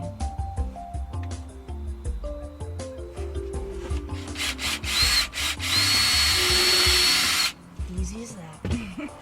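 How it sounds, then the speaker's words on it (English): Scraping and tapping build into a loud, steady whine of a power drill boring a hole in a Honda Element's interior hatch for a few seconds, then it stops and handling noises follow. "and then go ahead and start drilling."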